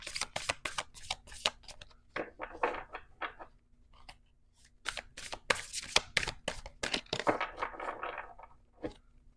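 Tarot cards are shuffled in quick bursts of crisp riffling and slapping, pausing briefly between rounds, close and fairly clear against a quiet room with a low steady hum.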